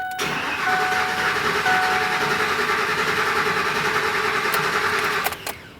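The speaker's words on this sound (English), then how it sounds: "Put the key in the ignition and crank the engine over." A 2008-2010 Ford F-250 5.4L engine cranks over and over with a whirring, rhythmic churn that never catches after fuel pressure sensor removal, then stops abruptly after a few clicks near the end.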